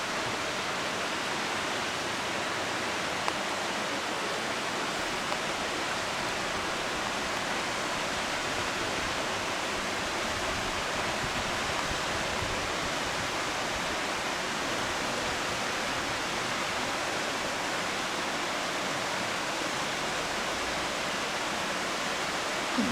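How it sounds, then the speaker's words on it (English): Constant roar of a waterfall near Crater Lake National Park falling into a small pool, a dense, even rush of falling water that continues unchanged throughout. "Found us a waterfall."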